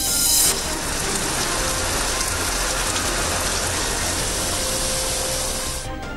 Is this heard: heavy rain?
yes